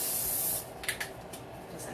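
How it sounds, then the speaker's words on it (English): Cooking spray misted onto a baking dish for macaroni and cheese, a steady close hiss for about half a second, followed by a few soft knocks and quiet room noise. "You can spray your dish if you want."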